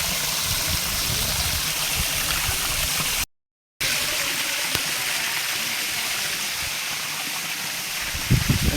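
A forest waterfall running weakly in the dry season gives a steady, close rushing and trickling wash of water, broken by one brief silent gap partway through.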